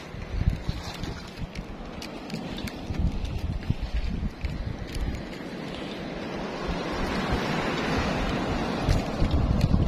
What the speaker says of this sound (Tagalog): Parang malakas baga ang alon ngayon